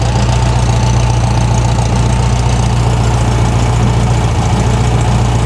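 A 1973 VW Thing engine idles on choke near 850 rpm with a loud, steady, low rumbling drone and a slight rhythmic lope, recorded close up with no voices.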